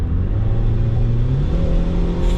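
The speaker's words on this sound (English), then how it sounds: "Now I have to fix that exhaust leak." 1990s AWD turbo car engine with a hairline-crack exhaust leak, idling loud and close with a steady rumbling drone that climbs slightly in pitch as if lightly revved.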